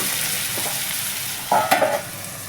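Onions and tomatoes cook over a low flame in a pan, giving a steady soft sizzle, followed by a short burst of louder scraping from stirring.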